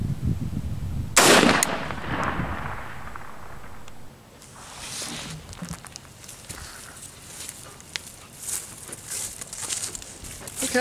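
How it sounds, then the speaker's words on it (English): A single loud, sharp rifle shot of .223 ammunition fired outdoors, cracking close by with a decaying echo, followed by quieter shuffling, footsteps and handling clicks. "Let's go ahead and fire one more"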